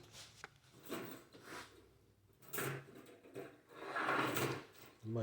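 A homemade muskrat colony trap being folded up, with scraping, rubbing and sliding knocks as its end, support and door are raised, several irregular bursts of handling noise up close.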